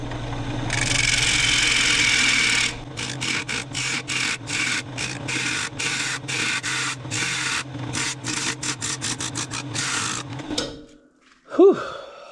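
Wood lathe spinning a hard, long-stored wooden bowl blank at about 1300 RPM, a steady close whir with rhythmic rubbing and scraping pulses, ending as the machine spins down.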